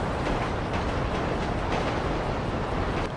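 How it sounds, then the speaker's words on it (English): A GTA 5 video game train rumbles along jointed track with a dense, noisy rolling clatter and faint rhythmic clicks over the rail joints, steady and fairly loud throughout. "you can hear the clatter of the train there, and that's a classic jointed track sound"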